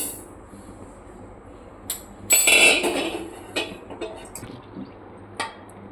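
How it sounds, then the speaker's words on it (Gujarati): Roasted fenugreek seeds pour with a brief rattling rush into a metal pot, followed by a few light clinks and taps. "હવે આપણે મેથી તપેલીમાં નાખી દઈશું"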